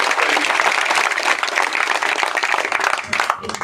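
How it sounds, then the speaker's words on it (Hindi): Loud, dense applause from an audience at a farmers' rally, thanking men who held a nine-day hunger strike; sustained clapping fills the whole stretch, thinning slightly near the end. "एक बार जोरदार तालियों से इनका"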